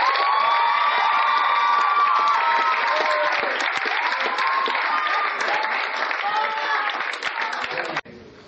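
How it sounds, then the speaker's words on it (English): An audience gives a loud, sustained round of applause mixed with cheering and children's shouts, steady for about eight seconds before cutting off abruptly. "Giving you a huge round of applause."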